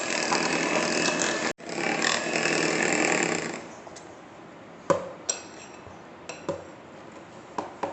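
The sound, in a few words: beating cookie batter until creamy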